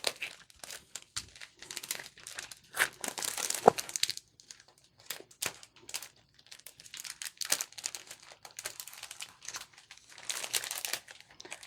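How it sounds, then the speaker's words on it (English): An item being slid back into a crinkly plastic package, loud close crackling and crinkling in irregular bursts with brief quiet gaps, no talking. "I'm going to try to slide this back in here without ripping the package."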